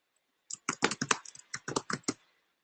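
Roughly a dozen crisp keystrokes tapped on a computer keyboard in quick irregular bursts, close and clear against a quiet room.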